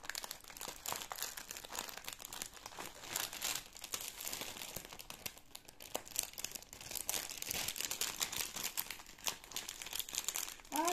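Plastic packaging crinkles and rustles continuously as a cross-stitch haul is repacked, close and fairly quiet, with irregular crackling and occasional sharper crunches throughout.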